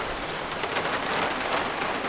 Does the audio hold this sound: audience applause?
no